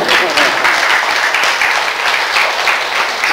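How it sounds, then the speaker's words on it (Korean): An audience at a panel on inter-Korean summit talks breaks into sustained, dense applause that stays loud and even from start to finish. "박수 치셔도 돼요."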